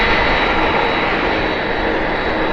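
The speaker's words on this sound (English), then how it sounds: "You have a Ryanair Max 8200 coming in from Prague" A Ryanair Boeing 737 Max 8200 arriving at Manchester Airport, a loud, steady jet engine roar close by with a faint whine riding over it.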